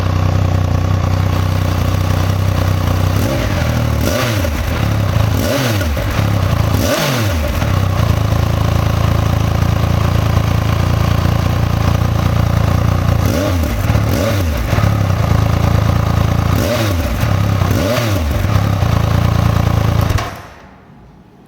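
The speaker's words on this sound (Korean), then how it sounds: "순정 배기음 아주 좋습니다. 카랑카랑 하고요." A Triumph Speed Triple 1200 RS with stock exhaust idles loudly nearby with a rough, throaty exhaust, blipped with a few short revs, before the engine cuts off near the end.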